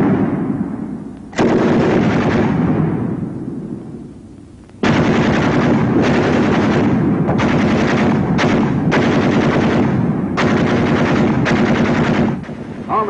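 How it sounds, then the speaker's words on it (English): Machine gun fire in battle, loud and close, coming in long sustained bursts with short gaps between them, joined by other automatic weapon fire. "Ever hear a battle between two machine guns?"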